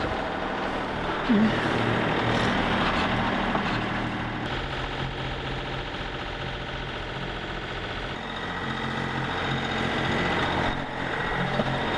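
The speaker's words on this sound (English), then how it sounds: "So we've motor sailed all day and motored all day." A sailboat motoring under its engine off the Mexican coast near Ensenada, a steady low engine drone and vibration running throughout with wind and water noise, no talk heard over it.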